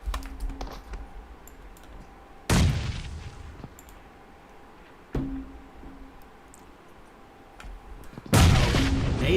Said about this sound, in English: Nades have been thrown.